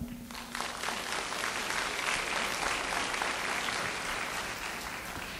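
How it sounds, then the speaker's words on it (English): Delegates at the 2011 KOSETA summer workshop in Cheonan applaud in a large hall, a sustained, even wash of many hands clapping for over five seconds, moderately distant and unbroken. "Shall we show him all Koseta members' gratitude with another applause?"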